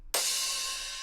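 A crash cymbal sample in an electronic drum-and-bass production: one sharp, bright hit after a brief silence, then a long shimmering wash that slowly decays, heard alone.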